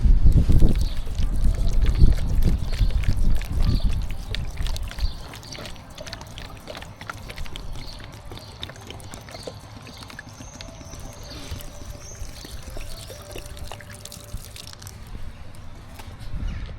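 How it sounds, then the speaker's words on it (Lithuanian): Water pours out of a container outdoors, a splashing gush for the first few seconds that thins into a faint trickle and quiet background. "Vandenį išpilu."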